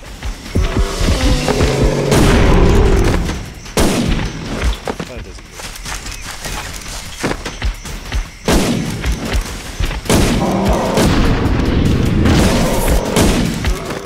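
Heavy rifle shots boom repeatedly in Cabela's African Adventure, a hunting video game set in an elephant area, with loud thudding blasts and reverberant rumble and a voice talking between them.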